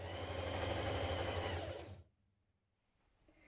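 A sewing machine runs steadily, stitching knit dress pieces in position, then stops abruptly about two-thirds through, leaving near silence.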